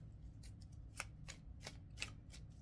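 Tarot cards riffle and slide in quick bursts of papery swishes and snaps, six or seven strokes in a row, close but very quiet with no voices.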